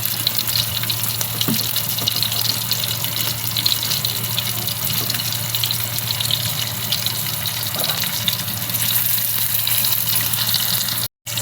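Bitter gourds (karela) fry over a low gas flame in a pan with curry leaves, giving a steady, even sizzle that holds close and unbroken throughout, with only a faint tap or two and no voices.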